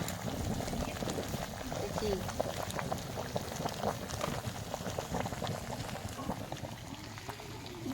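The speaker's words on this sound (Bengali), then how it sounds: "কিভাবে চুনটা ফুটছে ওমা এত জোর ফুটছে হাড়ির জল" Quicklime fizzes and bubbles vigorously in a clay pot of water, a dense, continuous close-up boiling roil, with people talking over it.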